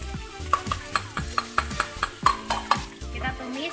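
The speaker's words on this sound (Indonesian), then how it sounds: "menumis bawang bombay" Onion sautéing in cooking oil in a pan, with a steady sizzle broken by regular sharp scrapes and clicks of a utensil stirring, close and alone without talk.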